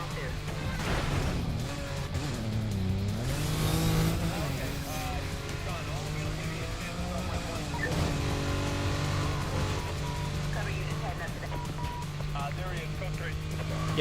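A Koenigsegg races in a PS2 video game, its engine droning with shifting pitch and a brief swell of tire noise, steady and loud behind people talking.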